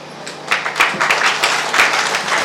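Audience applause welcoming a guest at a Good Friday gathering, a steady burst of many hands clapping at moderate distance, with no talk over it.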